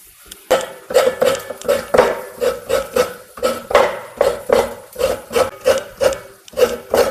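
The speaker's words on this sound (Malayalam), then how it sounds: "ഇത്തിരി നാളികേരം ചെറുക്കാം കേട്ടോ നമുക്ക്" Coconut being grated by hand in a home kitchen while cooking bitter gourd thoran, a steady run of about twenty rhythmic rasping scrapes, close and fairly loud, with no talk over it.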